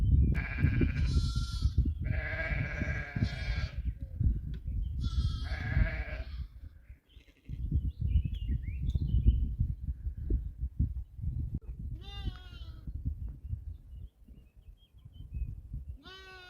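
Sheep in a sunny outdoor field bleat loudly and near, with several long wavering calls in quick succession, then a pause and another shakier bleat, over constant rumbling wind or handling noise.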